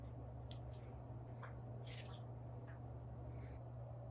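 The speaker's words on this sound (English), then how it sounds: "Birds." A few birds call in short, scattered bursts, raspy caws and chirps over a steady low hum, fairly faint, no voices.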